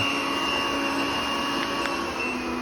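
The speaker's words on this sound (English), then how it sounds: "Let's turn up the suction. So that's like max suction." An OKP K8 robot vacuum cleaner runs at maximum suction, giving a loud, steady, close-up whirring drone with a high-pitched whine and no pauses or speech.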